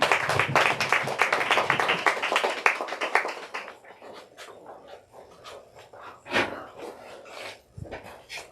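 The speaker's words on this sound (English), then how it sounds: "let's give them both a warm welcome and big round of applause" Audience applause welcoming two authors at a book reading event, dense clapping for about four seconds, then thinning to scattered claps and faint murmurs.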